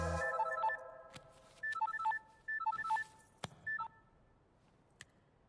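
A phone rings with an incoming call, playing a short electronic melodic ringtone in clipped bursts that repeat several times at moderate level, with no talking.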